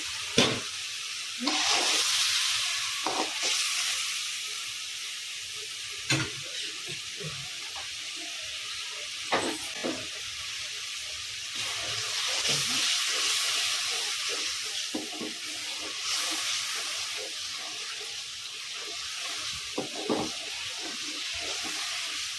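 Curry sautéing in oil in a pan with salt, a steady close sizzle and hiss punctuated by repeated scraping stirs and clinks of a spoon over about twenty seconds.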